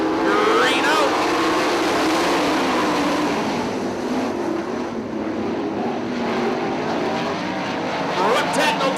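410 sprint cars race at Attica Raceway Park, a dense, loud roar of several engines sweeping past with rising and falling pitch beneath a track announcer's commentary.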